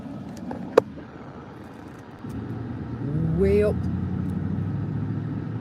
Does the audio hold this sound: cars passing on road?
yes